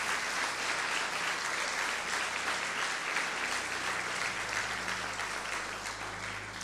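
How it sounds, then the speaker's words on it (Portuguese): A church congregation applauds the Lord during a prayer service, a dense, steady wash of many hands clapping at once that carries on throughout and eases slightly toward the end. "Aplauda ao Senhor e glorifique o seu nome por isso."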